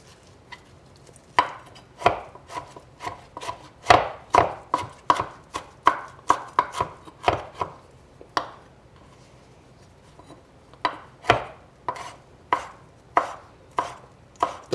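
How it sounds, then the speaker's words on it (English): A knife chops fresh basil leaves on a cutting board in a home kitchen, a series of sharp, close thuds in quick irregular bursts with short pauses between runs. "And then our fresh basil leaves, let's get these guys chopped up."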